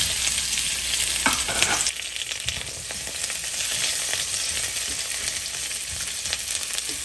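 Onions hit a hot wok and fry over low heat with a loud, dense, continuous sizzle, with a few stirring scrapes near the start; no voices.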